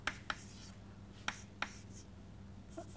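Pen strokes on a board during a math lecture come as a few faint, separate taps and scratches over a low room hum, with no talk.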